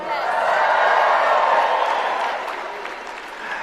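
A large crowd at AmFest 2025 cheers and whoops for Vice President Vance, a loud, sustained roar of many voices that swells early and then eases slightly.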